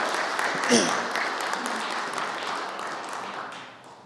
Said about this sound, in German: danke, nochmal Ihr Applaus